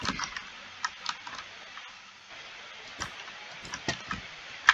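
A new mechanical keyboard with red switches being typed on: quiet, irregular key clacks in short bursts, close and soft, with no voices.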